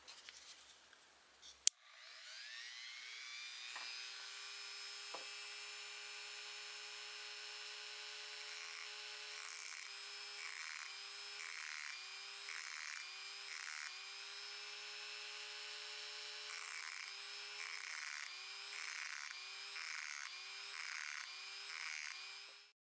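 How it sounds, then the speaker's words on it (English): A coarse 80 grit sanding drum on a rotary tool grinds a vintage screwdriver tip, making a steady high-pitched whine that rises and falls in repeated pulses as the tip touches the drum, close and fairly quiet. "I've got a coarse 80 grit sanding drum."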